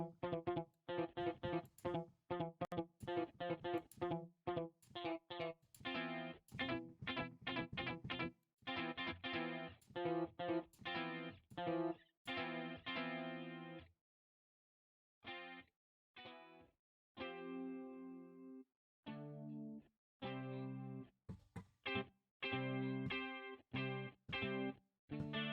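Shreaddage 3.5 Telos virtual guitar plays distorted strummed power chords and tight palm mutes in quick rhythmic bursts, with short pauses and sustained chords later, heard alone.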